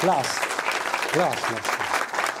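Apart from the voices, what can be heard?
audience applause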